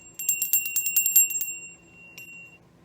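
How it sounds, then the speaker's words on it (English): A small hand bell rung repeatedly in a quick, bright jangle for over a second, then one faint final ding with a lingering ring, close and clear with no talking. "let me ring my bell"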